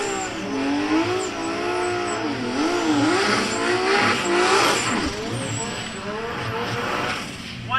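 Datsun GX drag race cars rev and launch at a drag strip during a national drag racing event, loud engines rising and falling with tire squeal, under an announcer's voice over a PA.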